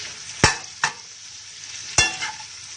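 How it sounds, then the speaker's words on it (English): Onions sauteing in a pan, a soft sizzle broken by three sharp utensil scrapes and stirs, close and fairly quiet with no talking. "So the onions are sauteing."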